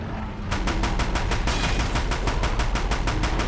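Rapid, loud automatic gunfire from a gun in Horizon Zero Dawn hammers out a continuous stream of evenly spaced shots, close and dominant.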